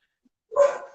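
A dog gives a single short bark, loud and close, after a moment of silence, with no voices.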